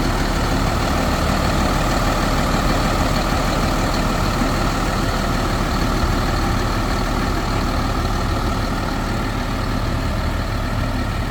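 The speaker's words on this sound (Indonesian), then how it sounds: "Ini dia dapur pacu dari Hino RM 280. Dengerin suaranya, teman-teman" A Hino RM 280 bus engine idles in a loud, steady low rumble that stays even throughout, heard up close with no voices.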